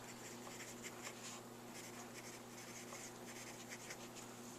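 Handwriting with a pen on paper, a steady, close scratching with short strokes and pauses over a constant background hum, no talking.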